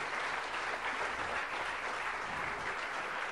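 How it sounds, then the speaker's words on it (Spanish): A church congregation claps together in sustained, dense applause during a Spanish-language service, a steady even wash of hand claps that fills the room without a break and without speech. "denle un aplauso al Señor"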